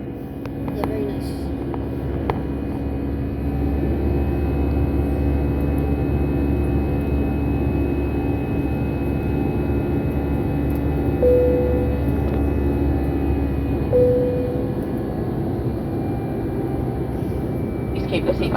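EasyJet Airbus A320 at London Luton airport, a steady low jet engine roar heard from inside the cabin during takeoff and climb, continuous and loud with a faint whine on top.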